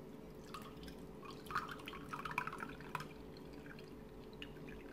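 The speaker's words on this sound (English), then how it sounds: "We'll throw the water in." Water is thrown onto a Xiaomi Mi Band 2 fitness tracker, making a cluster of faint splashes and drips over a steady background hum.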